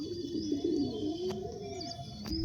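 A pigeon at a home pigeon loft coos steadily in a low, throaty, continuous murmur, close and fairly quiet, with no voices.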